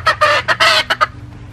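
A backyard chicken clucks loudly and close, a rapid burst of about six sharp squawking calls within a second, then falls quiet.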